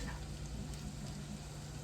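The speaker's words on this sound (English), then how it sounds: "So that's getting nice and hot and sizzling." Steady, even sizzling of meatballs frying in a hot pan, a constant crackling hiss with no talking.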